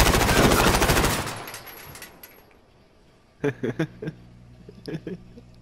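Automatic gunfire in the video game Call of Duty Modern Warfare rattles loudly in a dense burst for over a second, then dies away, followed by a few short, sharp clicks and taps.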